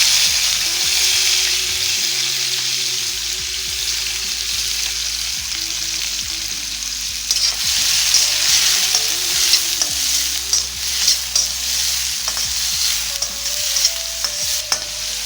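Thinly sliced big onions hit a pan of fennel seeds frying for prawn thokku and are stirred: a steady close sizzle with repeated scraping and clinking of the spatula, growing busier toward the end.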